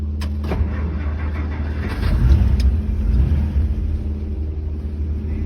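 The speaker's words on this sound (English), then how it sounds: "Please start the car." A few sharp clicks, then a low engine rumble swells as a 1955 Plymouth Belvedere starts and settles into a steady idle close by.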